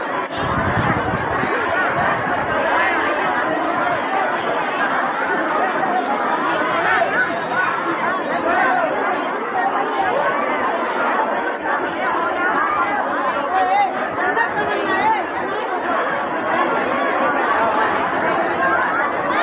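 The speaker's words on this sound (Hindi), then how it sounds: "उसी तबर्रुक को लेने के लिए भीड़ भरपूर मजम्मत के साथ लंगर की तरफ बढ़ रही है" A dense crowd moving toward the langar food distribution at the urs of Hazrat Baba Juhi Shah's shrine, with a steady, loud hubbub of many overlapping voices and shuffling throughout.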